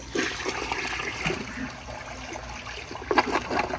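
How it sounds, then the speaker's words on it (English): A 2012 General De Ceramica toilet flushes with a rushing, gurgling swirl of water, steady and close throughout with a brief surge near the end; no one speaks. "So here is another flush."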